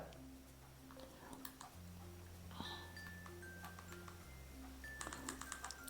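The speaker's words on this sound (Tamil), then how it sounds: "இப்போ எக்ஸாம்பிளுக்கு நான் ஏதாவது ஒன்று டைப் பண்ணுறேன்." Keypad presses on a Jio Phone Prima 4G feature phone, a quiet series of small irregular clicks, close and faint, running through a soft background hum.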